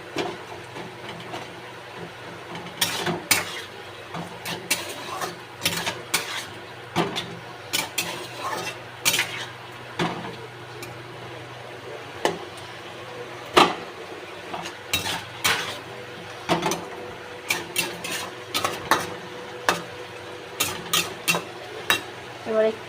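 A metal spatula scrapes and clinks against a pan while hilsa fish heads are stirred with bitter gourd, irregular sharp clatters over a low steady sizzle.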